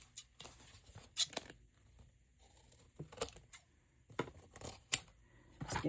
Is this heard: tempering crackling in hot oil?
no